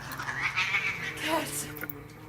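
Cats yowling and caterwauling in a rising, wavering cry, mixed with shouting voices and dramatic effects in a staged comedic scene.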